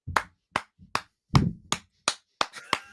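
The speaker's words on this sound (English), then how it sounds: "I'm giving you the Shia LaBeouf clap." Eight sharp, separate hand claps spaced unevenly across three seconds, each crisp and close, with only brief silence between them.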